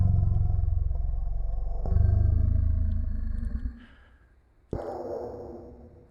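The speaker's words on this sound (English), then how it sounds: "now that person is starting to sound like a blue whale or something" A sampled human voice pitched far down in a sampler so it booms and groans like a blue whale, with two long low roars followed by a shorter, thinner call after a brief pause.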